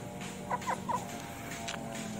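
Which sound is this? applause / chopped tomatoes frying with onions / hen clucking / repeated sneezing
hen clucking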